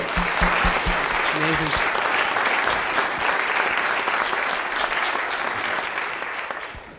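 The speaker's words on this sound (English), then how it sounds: "can we just give a round of applause for our speakers?" Audience applause for panel speakers at a university law school panel discussion, sustained clapping across the whole span, tapering slightly at the end, with a brief spoken word near the start.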